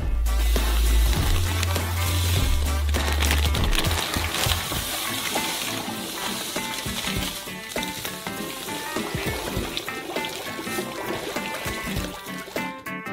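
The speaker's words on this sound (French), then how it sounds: "On ouvre le sucre. Et on verse dans le beurre fondu." Sugar poured into hot melted butter in a saucepan on the stove, with a low rumble at the start, then crackling sizzle and small splattering spits that carry on steadily up close.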